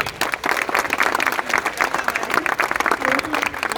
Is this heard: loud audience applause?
yes